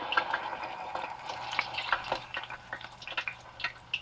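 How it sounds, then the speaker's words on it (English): Plantain slices frying in hot oil, a soft bubbling sizzle with light metallic taps and scrapes from a scooping spoon, fairly quiet and close. "So please keep watching as we fry them."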